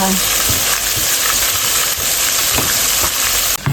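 Battered shrimp deep frying in hot oil, a loud, dense crackling sizzle running steadily throughout with occasional sharper pops, close up and uninterrupted.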